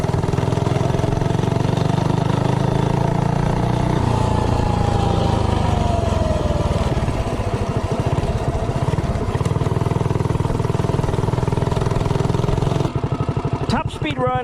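A Predator 212 small engine fitted with a Hemi head drones steadily at high revs during a top speed run, loud and continuous with a slight pitch shift midway before cutting off near the end.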